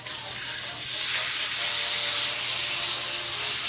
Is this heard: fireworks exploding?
no